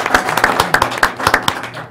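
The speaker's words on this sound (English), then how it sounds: "A round of applause." A small group at a board of education meeting claps briefly, with a handful of distinct hand claps in a loose, uneven rhythm close by.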